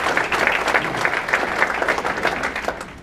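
An audience at a community meeting claps steadily in a dense round of applause, close and sustained, with no voices over it.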